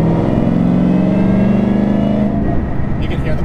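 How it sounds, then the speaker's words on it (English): The supercharger blower on a 1000 hp 2013 Ford Mustang Shelby GT500 whines over the loud engine drone as it is given a little gas in fifth gear, steady and close with a rising pitch. "Like, even the blower in fifth gear, it will sing to you, you know."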